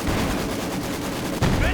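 Dense, continuous battlefield din of Maxim machine guns and mortars in a real-time strategy game, with a sharp explosive burst near the end, a constant loud roar throughout.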